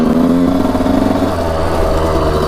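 A Suzuki RM125 two-stroke dirt bike engine runs in first gear with a loud, buzzy, steady drone and slight pulsing, close up and without talking.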